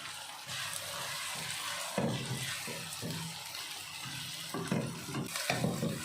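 Salt, chili, turmeric and coriander sizzle in a hot pot for a ginger and garlic curry, a steady close hiss with bursts of louder crackle and faint kitchen clatter.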